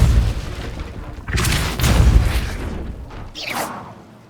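Depulso force spell cast in Hogwarts Legacy, heard as a few soft booming bursts and whooshing blasts over a low rumble, medium-close with no talking.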